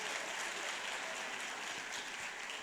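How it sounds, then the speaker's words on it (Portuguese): Applause from a church congregation, a steady dense wash of clapping that continues evenly throughout without pause. "uma salva de palmas"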